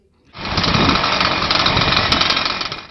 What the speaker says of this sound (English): The engines roar to life